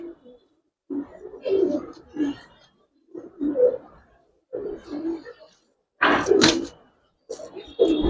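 A male racing pigeon of an old working breed coos in a series of low, soft, rounded calls separated by short pauses, with one brighter, louder burst near the end.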